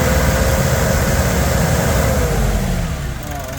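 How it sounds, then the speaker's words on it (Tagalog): A Nissan NV350 van engine with a low-power fault, capped at about 2,000 RPM, held at steady high revs with the accelerator floored, loud and close, then easing off slightly near the end. "Yan, sagad natin yung accelerator."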